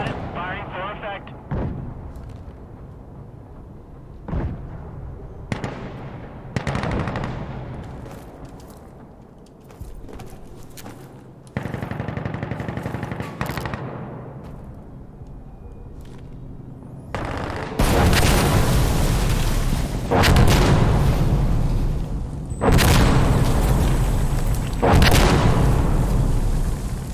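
Artillery barrage in the video game Insurgency Sandstorm: repeated heavy booming blasts at irregular intervals, growing denser and louder toward the end into a continuous rumbling bombardment.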